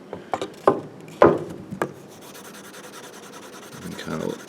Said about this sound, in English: I'm going to use a dowel to burnish that in place.